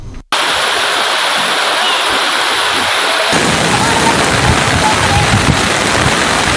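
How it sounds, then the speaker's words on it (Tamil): Heavy rainwater rushing across a six-lane road during a downpour, a loud, dense, unbroken roar of flowing water and rain that starts abruptly and holds steady throughout. "பெய்த மழையின் காரணமாக 6 வழி சாலையில் பெருமளவு மழைநீர் பாய்ந்தோடியது"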